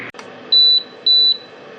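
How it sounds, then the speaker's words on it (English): A Keurig K-Café coffee maker sounds two clear electronic beeps of equal length with a short gap between them, over faint background hum. "Okay, so it beeps at you twice."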